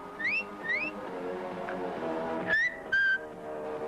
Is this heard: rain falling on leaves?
no